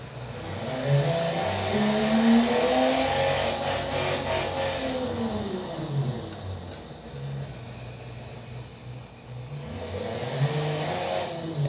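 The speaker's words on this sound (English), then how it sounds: "And it's redlining now." A diesel car engine from a custom build revs hard to its redline, pitch sweeping up and down in loud, close climbs, then falling to a rougher idle before rising again, with no voices.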